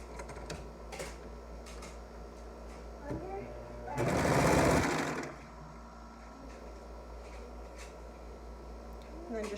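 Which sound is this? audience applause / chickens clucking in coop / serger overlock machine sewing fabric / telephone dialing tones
serger overlock machine sewing fabric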